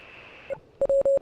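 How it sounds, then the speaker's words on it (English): Radio Morse code signal in the video game Oxenfree, a brief static tone fading out, then a series of clear electronic beeps of short and long lengths in quick succession. "That's Morse code."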